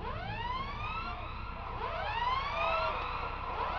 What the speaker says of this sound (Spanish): los aullidos de las sirenas recibieron a Ana